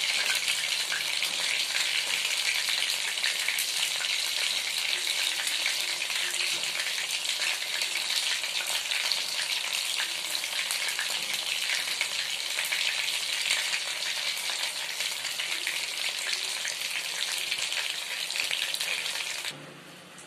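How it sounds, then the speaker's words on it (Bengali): Golden prawns fry in hot oil with a loud, steady, dense sizzle that holds unbroken for about twenty seconds, then cuts off abruptly at the end. "আমি প্রন ফ্রাই করে তুলে নিয়েছি, গোল্ডেন প্রন ফ্রাই"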